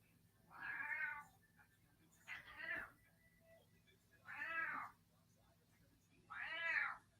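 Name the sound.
cat meowing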